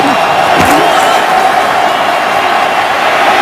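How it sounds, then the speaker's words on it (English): Tremendous roar of a packed NFL stadium crowd at Gillette Stadium during a Browns at Patriots game, a dense continuous wash of cheering and shouting, loud and steady, with a brief sharp slam near the start. "Tremendous crowd noise at Gillette."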